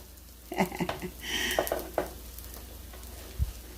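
Small potato pieces frying in a home kitchen pan, a soft sizzle under intermittent clatter and scraping of a utensil, with a few sharper knocks against the pan.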